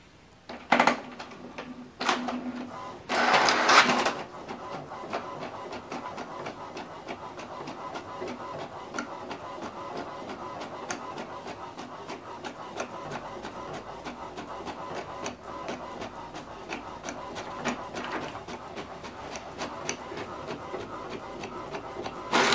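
An HP DeskJet 3700 inkjet printer running off a document, with a few sharp mechanical clacks at the start followed by a steady, continuous whir and rattle of the print head and paper feed close by, with no talking.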